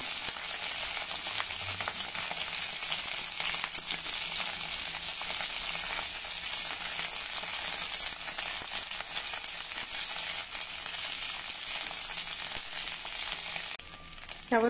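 Stuffed bell peppers fry in oil in a covered pan, giving a loud, steady, close sizzle that holds evenly throughout, with a brief shift near the end like a lid or a stir.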